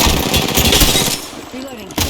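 Rapid automatic gunfire in the shooter video game Apex Legends comes as a dense, loud burst of shots that fades out toward the end, with a sharp crack just before it stops.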